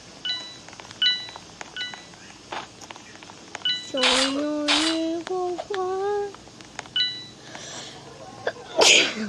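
Two loud sneezes in quick succession during a Roblox murder mystery game session, set among bright chiming game tones and beeps, with another sharp burst near the end.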